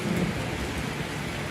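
Steady rain pours down continuously while a low thunder rumble rolls underneath, forming a dense wash of storm noise with no voices.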